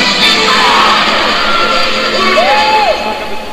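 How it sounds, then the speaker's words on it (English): Loud, sustained crowd cheering and yelling fills an arena at a world weightlifting championship during a men's 77 kg snatch attempt, with whoops and shouts rising over a dense roar throughout. "there's a big cheer coming up at 161 here."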